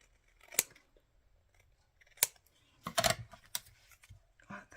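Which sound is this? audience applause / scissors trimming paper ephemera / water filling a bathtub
scissors trimming paper ephemera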